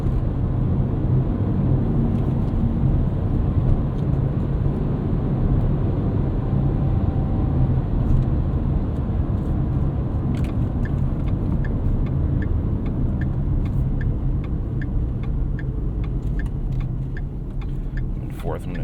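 Inside a 2012 Ford Fiesta hatchback SE with a manual gearbox, the engine and road noise form a steady, loud drone, joined later by a rhythmic ticking.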